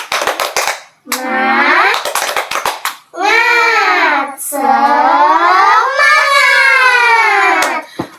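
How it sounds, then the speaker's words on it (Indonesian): A group of schoolchildren in a primary school classroom claps in quick rhythmic bursts, with children's voices calling and cheering over long stretches. "Tepuk semangat dulu ya."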